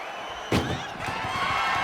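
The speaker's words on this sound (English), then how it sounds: "Shut the doors and this one's over." Ambulance doors slam shut in a WWE 2K25 wrestling match, one sharp close thud over a steady arena crowd hum, followed by a few softer knocks.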